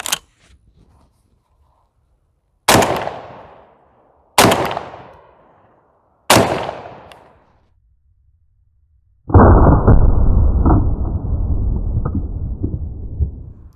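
A Girsan MC312 semi-automatic shotgun fires three loud Federal Speed Shock shells outdoors, each sharp blast about two seconds apart with a decaying echo, followed by a sustained rumbling noise.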